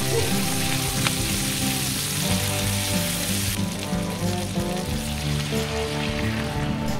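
Diced sausage and onion sizzle steadily in a frying pan, a dense, crackling fry that stays loud and continuous throughout with no talking.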